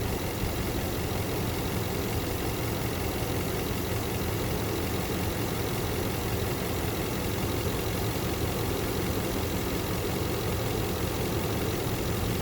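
A truck engine idling, a steady low rumbling drone that holds evenly throughout at moderate level, with no voices.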